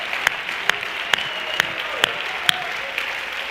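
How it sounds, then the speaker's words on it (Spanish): A small church congregation gives a short round of applause, a steady patter of clapping with several sharp, prominent claps standing out at a regular rhythm, with no talk over it. "dale un aplauso al Señor Jesucristo de alabanza y de gratitud"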